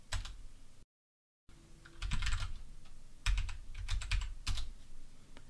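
Keys on a computer keyboard clack in quick irregular bursts as a command is typed, with brief pauses between runs of keystrokes, close and clear.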